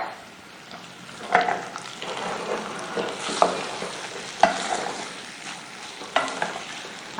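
Potatoes frying in oil in a pan are stirred by hand, with a steady sizzle broken by a few scraping strokes of the spoon, close up and without talk.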